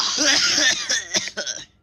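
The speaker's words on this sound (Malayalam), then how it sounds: "ചുമക്കുന്നുണ്ടല്ലോ" A person coughs several times in quick succession, loud and close, with harsh bursts tapering off near the end.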